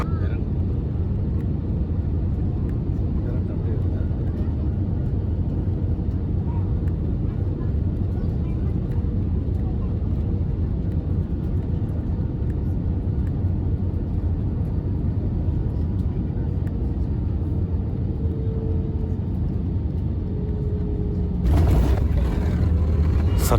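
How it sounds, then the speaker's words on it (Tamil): Passenger jet landing hard at the small Langkawi airport in Malaysia, heard from inside the cabin as a loud, steady roar of engines and airflow that holds for about twenty seconds, then a sudden harsher burst near the end. "பைலட் வந்து ரொம்ப கேவலமாக லேண்ட் பண்ணாருங்க."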